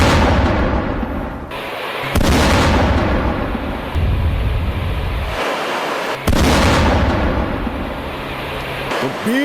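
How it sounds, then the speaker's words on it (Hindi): Heavy explosions, said to come from B-2 bombers, land as three deep booms spaced a few seconds apart, each followed by a long rumbling roll. "B-2 बॉम्बर के धमाके, उसकी आवाज आप सुन पा रहे हैं"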